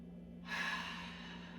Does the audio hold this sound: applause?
no